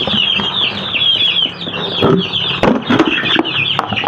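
Two-week-old Rhode Island Red chicks on a chicken farm cluck and chirp continuously at close range, with brief wing flaps and scuffling bursts mixed into the steady flock noise.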